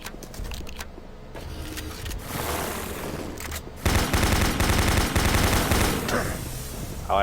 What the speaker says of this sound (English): Insta-kill shotgun!